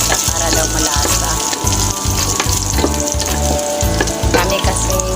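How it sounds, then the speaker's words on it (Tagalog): Garlic sautéing and frying in a pan gives a steady, loud sizzle, with stirring scrapes and clatter throughout. "Lagay ko na po itong bawang."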